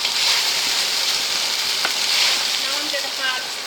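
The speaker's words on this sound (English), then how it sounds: "Right, I'm going to add some garlic now. More flavour and cook it for 2 minutes." Garlic sizzling and frying in a pan while gumbo is cooked, a dense, steady hiss close up with a faint stir partway through and no speech.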